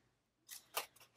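Paper cut for a December Daily scrapbook album: a few quick, close scissor snips in a short burst, faint overall, no talking.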